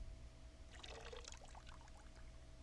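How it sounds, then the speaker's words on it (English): Water conjured by a Create Water spell in the KonoSuba: Fantastic Days game pours into a cup until it overflows: a short, faint splashing trickle lasting about a second over quiet background hum. "magical sigils appeared from Kazuma's outstretched hand, causing water to fill the cup till it overflowed"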